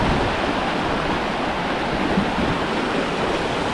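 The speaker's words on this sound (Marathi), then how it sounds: "हे बघा इकडून पाणी सोडलेलं आहे बघा." Water rushes down a village waterfall in a steady, dense roar of broadband noise that stays close and even throughout, with no voices over it.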